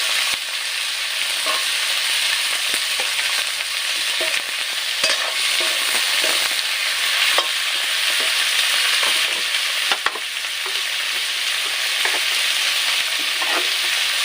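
Broiler chicken frying in a pan with dhekia fern greens after water has been added, a steady loud sizzle with occasional stirring clinks and scrapes throughout, no voices.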